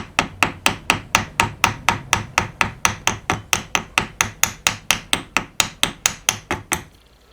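Steady, evenly spaced hammer taps on a snow blower, about two dozen sharp metallic strikes in a quick regular rhythm, close by, ending abruptly.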